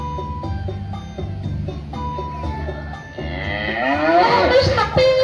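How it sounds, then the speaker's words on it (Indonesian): A cow moos loudly in a long drawn-out call that rises and swells toward the end, over a steady background of music or tones. "Itu sapi."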